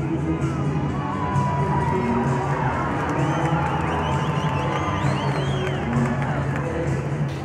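A large arena crowd at a horse reining freestyle cheers, whoops and shouts in a steady, loud, continuous roar for the whole stretch.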